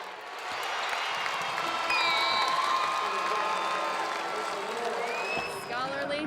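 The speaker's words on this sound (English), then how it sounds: "the fans never left their seats, cheering to the end" A crowd of fans cheers, whoops and applauds at an Oak Hill Lady Eagles girls' basketball game, a loud, steady roar with scattered shouts and voices mixed in throughout.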